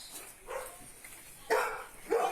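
Indoors, a dog gives a few short, faint barks from another room, spaced apart with quiet in between.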